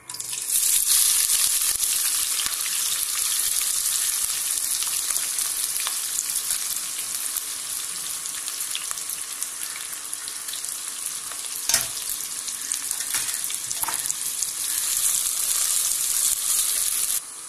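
Onions and green chilies fry in hot oil in a pan for mutton biryani, a steady loud sizzle with occasional stirring clicks, with no talking.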